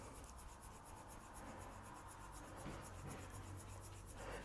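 A massage stick rubbing back and forth along the side of a foot during Thai foot reflexology, giving a soft, steady, continuous rasping friction at low volume.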